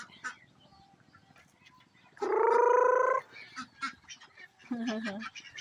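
Farm ducks give a loud, drawn-out honking quack close by, followed by a burst of shorter rapid quacks, with scattered softer calls and faint background noise between.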